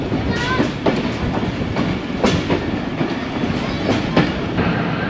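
The Ravi Express, heard close to its locomotive on a classic branch line near Shorkot, rolls past with loud, rhythmic clickety-clack wheel beats over a continuous rumbling clatter.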